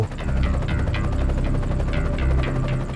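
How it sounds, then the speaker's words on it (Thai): A rescue helicopter flies over a desert, its rotor thumping loudly and steadily with a heavy low drone throughout. "มันคือเสียงของเฮลิคอปเตอร์กู้ภัย"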